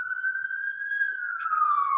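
Distant emergency vehicle siren on a mountain road near a fire and rescue route, a single sustained wailing tone slowly rising then falling, clear against an otherwise quiet background.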